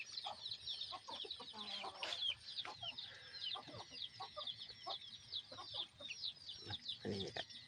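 Chickens about five months old clucking steadily up close, with rapid chatter running throughout and occasional louder squawks.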